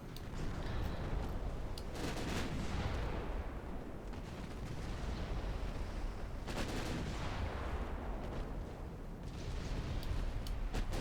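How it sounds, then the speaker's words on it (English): Return gunfire in the naval combat game Dead Metal, with repeated heavy cannon blasts and rolling booms in bursts over a continuous rumbling battle din, loud and dense throughout. "Bit of return fire. They are firing on the cruiser anyway."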